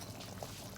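Soft, steady bubbling of water boiling in a pot for Thai tom yum chicken soup, close and continuous for a brief moment, with no voices.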